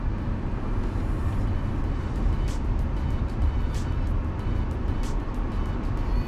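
A BYD Han EV electric sedan driving a test lap, heard as a continuous rumble of tyre and road noise with wind rushing past, steady and close from inside the car.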